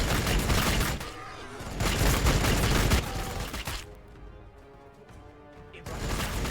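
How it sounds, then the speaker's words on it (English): Heavy gunfire from Adepta Sororitas units in a Warhammer 40,000 strategy game, dense sustained volleys and crashing blasts that drop away briefly and then swell again, loud and close. "Just have everybody start shooting."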